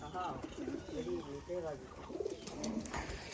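A flock of pigeons coos in soft, wavering, murmuring phrases that overlap one after another, heard faintly over a low background hum.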